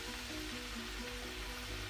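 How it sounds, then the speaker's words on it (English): Plantains fry in hot oil for tostones, giving a dense, steady sizzle that stays close and constant, with no talking. "You're using the hot oil to set the plantain shape."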